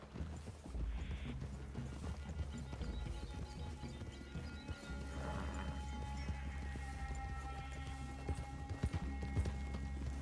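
Horse hooves clop steadily in the video game Red Dead Redemption 2, a quiet, even walking rhythm over a low rumbling ambience.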